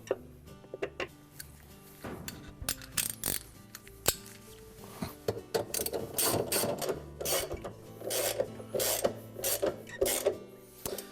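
Bolts are fitted into the hub of a Maytag washer tub, with a run of close metallic ratcheting clicks and clatters in uneven bursts, growing busier toward the end.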